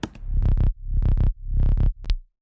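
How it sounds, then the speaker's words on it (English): Bass notes run through the Bass Roundup preset of Ableton's stock Amp plugin, a few thick, warm, distorted tones in short bursts with abrupt stops, loud and dry. "I decided to use Bass Roundup preset from the Ableton Stock Amp plugin"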